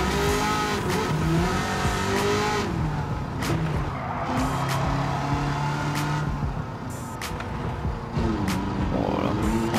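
A powerful car in Gran Turismo 7 on PS5 races: its engine revs rise and fall continuously, with tire squeal and skidding throughout, loud and steady.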